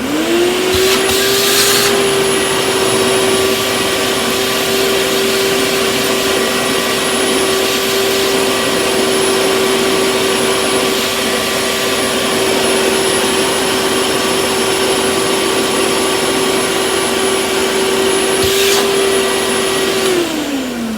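A Hoover Power Max vacuum cleaner (model S3607) runs steadily with a hose cleaning its filter: a loud, continuous motor whine and airflow rush that holds for the whole stretch, then winds down at the end, with no talking.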